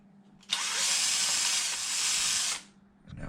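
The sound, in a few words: power drill removing screws from bottom plate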